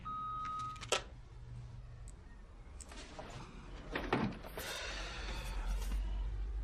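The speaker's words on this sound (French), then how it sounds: "vous pouvez laisser un message après le bip" A single steady electronic beep sounds briefly, then a click and soft, faint handling noises in a quiet room.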